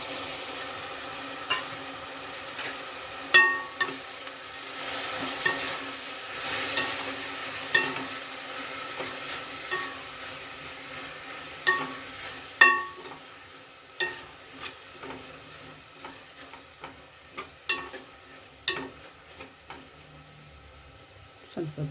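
Tomato frying in a pan for fenugreek-leaf pulao, with a soft background sizzle broken by repeated light clinks and scrapes of a stirring spoon, close and fairly quiet.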